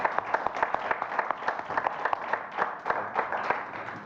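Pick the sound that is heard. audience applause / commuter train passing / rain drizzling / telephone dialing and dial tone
audience applause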